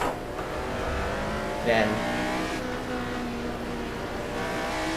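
A Formula 1 car on slick tyres at Goodwood holds a steady droning engine note with a brief rise midway, heard from on board, with a voice briefly over it.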